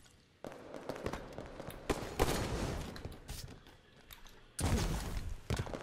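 Sharp gunshots crack in a SWAT free-for-all tournament shootout, coming in quick clustered bursts with loud, abrupt onsets separated by short pauses, fairly close and prominent.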